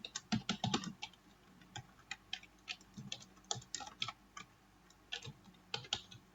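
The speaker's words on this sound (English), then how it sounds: "I feel like I'm typing like a tornado today" Fast, irregular clacking of keys on a computer keyboard while coding, close and crisp, in quick bursts separated by brief pauses.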